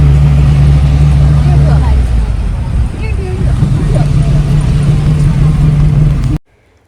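A vehicle pulls up outside a temple in Konni, its steady engine rumble running loud and close for about six seconds, with a faint murmur of people in the background, then cutting off abruptly.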